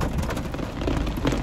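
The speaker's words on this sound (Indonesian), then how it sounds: "Hujan, guys." Dense, steady rainfall hiss with low rumbling underneath, continuous and fairly loud, no voices.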